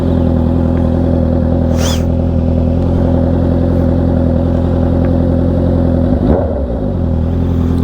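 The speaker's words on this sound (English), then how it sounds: "Let's listen to this exhaust real quick." A new motorcycle running under a rider, its exhaust holding a loud, steady low drone with one brief change in pitch near the end.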